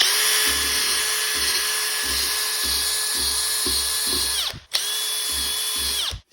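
Small high-speed power tool sanding and polishing an aluminium part, a steady close whining drone that briefly cuts out and restarts near the end.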